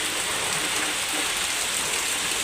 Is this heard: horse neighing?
no